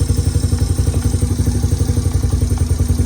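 Honda Fatcat engine idling too high, a loud close rhythmic thumping putter with rapid even pulses and a metallic clatter, steady throughout.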